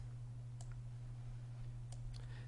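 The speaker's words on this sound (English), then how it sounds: "I'm going to delete all of these columns by highlighting them and hitting delete on the keyboard" Keys clicked on a computer keyboard while deleting spreadsheet columns: a few faint, separate taps over a steady electrical hum, with no voices.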